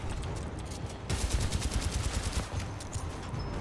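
Rapid automatic gunfire in the Titanfall 2 video game campaign, a fast steady stream of shots that intensifies after the first second, fairly faint and without talking.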